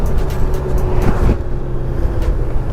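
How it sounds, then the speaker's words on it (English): A 2020 Honda Goldwing motorcycle downshifts while slowing to a stop, giving a steady, close engine drone with road rumble and a brief shift-like bump partway through. "I'm going to check out that downshifting again because I am coming up here to a stop."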